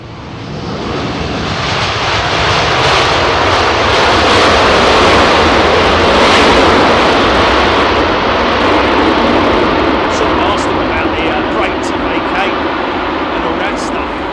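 A China Southern airliner's jet engines roar on the runway at London Heathrow: a loud, sustained broadband rush that builds and holds for many seconds, with a voice talking over it.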